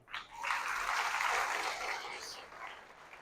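An audience at a religious gathering claps together in a soft, continuous burst that swells and then gradually fades.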